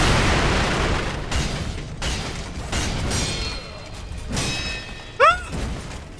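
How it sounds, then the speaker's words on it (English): Fireworks explosions in the game Sekiro crack and boom in a rapid burst of overlapping blasts and crackles, with a bright whistling pop near the end. "Fireworks!"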